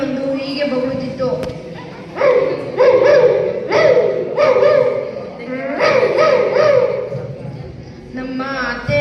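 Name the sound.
voice imitating a barking dog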